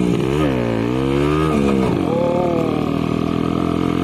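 Modified motorcycle fitted with an Akrapovic exhaust revs up close by, a loud rising and falling engine roar that settles into a steady idle.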